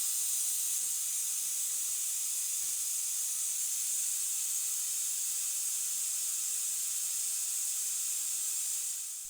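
Brake bleeder on a Ford Focus during a brake fluid change, giving a continuous bright airy hiss, steady and close, easing slightly at the end, with no voices.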